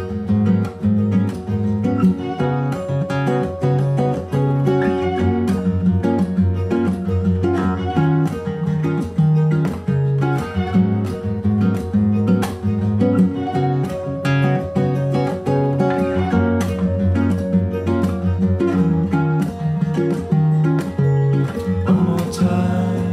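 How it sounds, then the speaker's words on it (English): Nylon-string guitar with a capo playing the main part of a song, a continuous, steady rhythmic fingerpicked pattern repeating four chords, close and fairly loud with no talking throughout. "This is the main guitar part, so this is the nylon string guitar"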